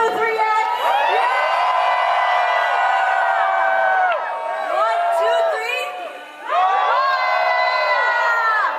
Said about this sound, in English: Everyone give her a loud Manila cheer.